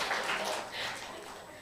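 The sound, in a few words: congregation clapping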